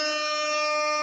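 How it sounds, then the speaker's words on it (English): Loud air horn blast used as a sound effect, a single sustained harmonic-rich honk lasting about a second before cutting off. "Once again, we're gonna air horn and salute Ti."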